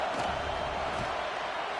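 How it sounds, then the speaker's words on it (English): A home crowd roars at a USC versus Colorado college football game on a third-down defensive stand, a dense, steady wash of cheering and noise filling the stadium. "Here comes this home crowd as the defense tries to get off the field on 3rd down."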